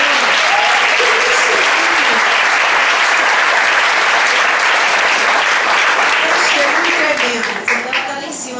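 A church congregation gives a long, loud, dense round of applause that fills the room, with a voice audible beneath it, fading slightly at the very end.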